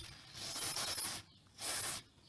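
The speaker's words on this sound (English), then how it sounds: "I like to spray a little bit on the underneath of the back side of the ball" White lithium grease sprayed from an aerosol can onto an RV trailer coupler ball, heard as two close hissing bursts, the first longer and the second shorter after a brief pause.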